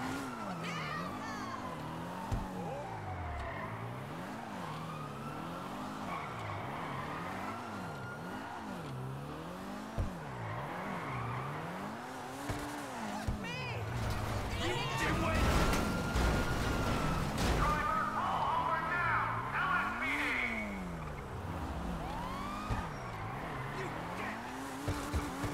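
Maibatsu Penumbra FF in GTA Online skidding through figure-eight drifts, tires squealing in long wavering bursts over a revving engine that rises and falls, loud and close throughout with a brief voice.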